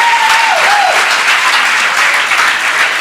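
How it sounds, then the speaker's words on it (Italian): A church congregation applauds loudly and steadily, a dense, continuous roar of clapping filling the room, with a brief sliding tone near the start. "facciamo un grande applauso al Signore"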